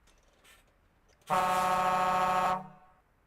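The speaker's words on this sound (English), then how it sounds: "I have no idea what the air horn sound is on this truck." A single sustained truck air horn blast, loud and steady for about a second, with a faint quieter toot before it.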